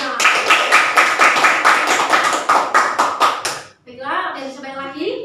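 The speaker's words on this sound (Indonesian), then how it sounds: "tepuk tangan kita semuanya" Group of students clapping together in a classroom counselling session, a loud rhythmic burst of many hands that stops suddenly, followed by a voice speaking.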